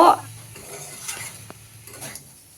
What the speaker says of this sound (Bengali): ধনে আর মৌরি বাটাটা দিয়ে আমি কিন্তু সমস্ত সবজির সাথে ভালো করে কষিয়ে নিচ্ছি